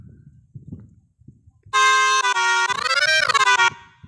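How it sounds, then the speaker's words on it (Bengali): A horn sample played in FL Studio, a loud brassy car-horn-like blast with a bending pitch lasting about two seconds, after soft low thumps and faint talk. "এটা হর্নটা"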